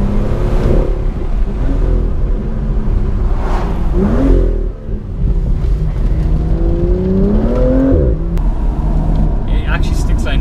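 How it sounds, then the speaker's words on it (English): Engine of a 2018 BMW M2 thrumming loudly from inside the cabin, revving up and down with pops and bangs on the overrun while someone talks over it. "it bangs now on the overrun as well as the thrumming noise"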